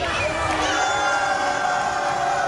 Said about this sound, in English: Once again, this crowd chanting Bebop's name.